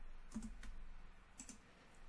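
A few soft clicks from keys pressed on a computer keyboard, including the spacebar, come in a brief irregular cluster and then a later pair, quiet and close in an otherwise still room.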